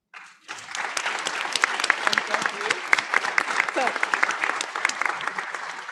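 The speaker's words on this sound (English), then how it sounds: "please, everyone, join me in a very warm round of applause for our spectacular panelists" A conference audience on women's status in international law breaks into a sustained round of applause for panelists, dense clapping that starts abruptly and holds strong and steady, with some voices mixed in.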